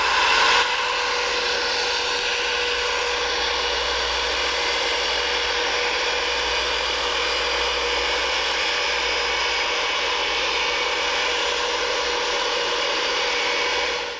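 A metal polishing machine runs at reduced speed with a loud, steady, close whine and hum that holds without a break from start to finish, with no voices.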